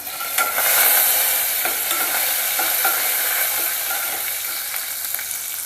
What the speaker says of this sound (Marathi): तेल गरम झालेलं आहे गॅस बारीक केलेला आहे बघा पत्ता घालूया थोडा